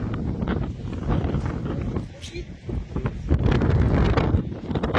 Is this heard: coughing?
no